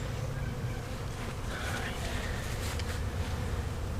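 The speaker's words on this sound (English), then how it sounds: "There's a lot of bees in there." A dense buzzing of a honeybee swarm under a house hums continuously up close, with a low rumble of wind or handling noise underneath.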